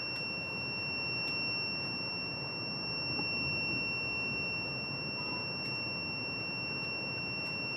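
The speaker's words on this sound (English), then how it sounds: "When the light is off, the beep sound is off" A DTF printer with Epson i3200/4720 printheads beeps while ink is loaded, a steady high electronic tone held throughout over a low hum of machinery.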